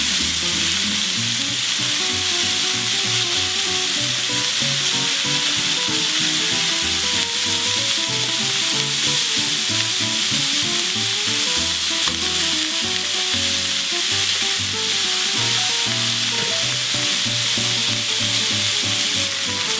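Chopped onion sizzles loudly in a hot pan for a simple roast chicken with garlic, a dense, continuous frying hiss with stirring and scraping throughout, close and without pause, over steady background music.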